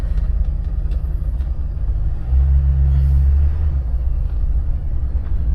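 A 1978 Lincoln Continental convertible's engine gives a deep, steady low rumble as the car is put in drive and rolls off, swelling slightly midway with no talk over it.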